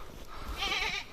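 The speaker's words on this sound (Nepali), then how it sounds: "च्याङ्ग्राहरू मात्र हो" Goats on a Himalayan mountain trek bleat in a brief wavering call that rises over outdoor wind noise, fairly close and moderately loud, with no talk.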